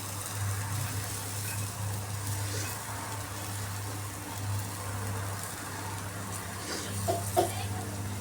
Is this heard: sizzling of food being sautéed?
yes